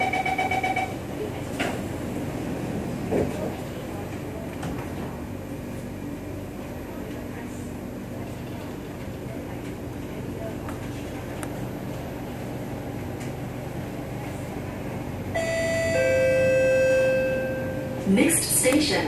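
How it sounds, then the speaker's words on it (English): An SMRT Nippon Sharyo C751B train rumbles steadily in the cabin before its doors close with a run of warning chimes near the end. "doors are closing."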